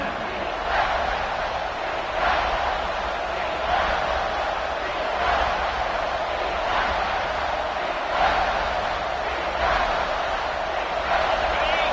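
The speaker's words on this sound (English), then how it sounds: "the crowd really making some noise now" A large crowd at a college football game roars steadily, a dense wash of cheering that swells in waves without pause.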